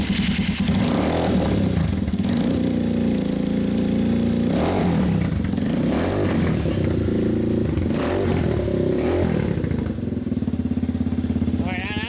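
A Lifan KP Mini 150/200cc motorcycle with an upgraded carburetor and big bore kit runs with its muffler fitted, a loud, close, continuous engine drone with some throttle swells and rattling.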